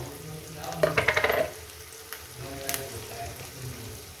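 Onions fry in a pan for a katla fish curry, giving a soft, steady sizzle with a brief cluster of stirring clatters near the start and a few light taps later, fairly quiet.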